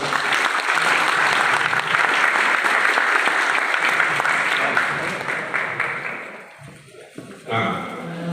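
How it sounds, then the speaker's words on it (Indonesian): An audience at a public lecture applauds steadily for several seconds, a dense wash of clapping that fades out toward the end before a voice begins. "tepuk tangan untuk Pak Erlangga"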